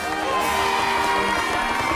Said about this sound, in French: Applaudissez-le bien fort, notre capitaine, Monsieur Kraft.